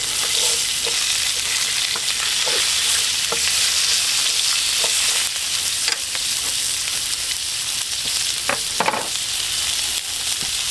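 Asparagus frying in a pan on a camping stove, a loud, steady sizzle and hiss broken by scattered scrapes and taps as it is stirred, with no talk.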